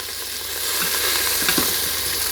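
Food browning in a hot pan, a steady close sizzle with a few soft stirring scrapes, with no talking.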